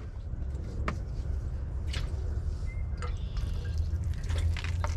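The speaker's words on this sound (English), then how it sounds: "Then we're gonna water them." Rainwater poured over freshly planted bean seeds in garden soil, soft splashing and scattered drips over a low background rumble, fairly quiet and close.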